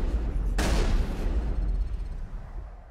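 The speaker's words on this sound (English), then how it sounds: "Those gunshots are fucking loud." A single loud gunshot in Mass Effect cracks out over a dense, rumbling background and fades with a short echoing tail.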